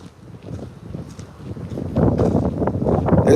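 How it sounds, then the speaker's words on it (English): Outdoor wind buffets the microphone in uneven gusts, a low rumbling rush that grows stronger and louder in the second half. "It's windy out here though."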